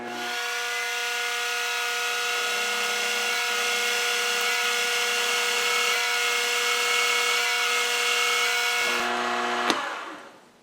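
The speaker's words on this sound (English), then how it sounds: "This actually drills pretty reasonable." A power drill bores a hole in a lathe rear spindle spider, a loud, steady whine that runs unbroken for about nine seconds before the motor stops and the bit clicks out.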